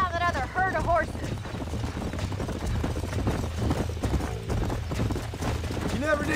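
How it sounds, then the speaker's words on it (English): Horses' hooves clip-clop and thunder in a galloping rhythm across Red Dead Redemption's open range, with a whinny early on and game dialogue running over the hoofbeats throughout. "Let's see if we can track down that other herd of horses."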